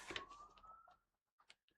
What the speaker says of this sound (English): Got a siren outside. Always have a siren going on.